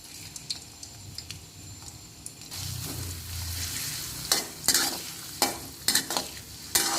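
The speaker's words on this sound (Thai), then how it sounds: "ใส่หอมลงไปนะครับหอมแดงซอยไว้ ไฟไม่ต้องแรงนะครับ" Sliced red shallots frying in oil over low heat for stir-fried prawns with tamarind sauce: a steady close sizzle that grows livelier, punctuated by sharp scraping stirs, with no voices.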